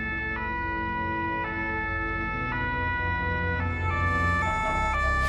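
A fire brigade emergency vehicle's siren wails loud and close on a forest road, its two-tone pitch stepping up and down in a steady repeating cycle over a low engine rumble, with no voices.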